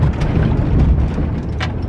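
A first-generation truck bumps over rough railroad tracks, a dense low rumble broken by a few jolting thumps inside the cab.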